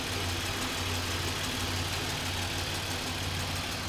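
A 2007 Chevy Equinox all-wheel drive with a 3.4 liter engine idles steadily with a low, even hum, close up and unchanging, with no talking.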